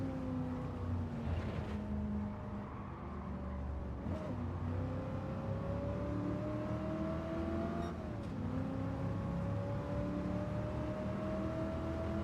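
A car with a 7-liter Hemi 426 engine in a racing video game drones steadily with rising and falling revs, shifting pitch at a few points, heard fairly close and continuous.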